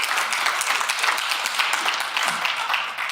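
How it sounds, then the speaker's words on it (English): An audience applauds at a keynote event, steady dense clapping from many hands filling the room throughout, with no voices standing out. "Give him a round of applause for raising me."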